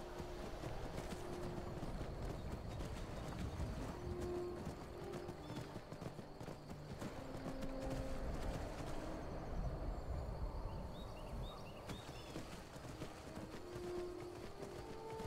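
Horse hooves clip-clop steadily in Skyrim on the road, a continuous moderate walking rhythm under ambient outdoor game sounds, fairly quiet with no speech.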